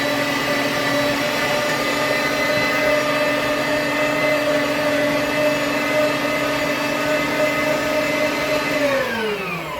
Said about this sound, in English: He takes a piece of bread and he adds to the machine to clean it out to get all the raw meat out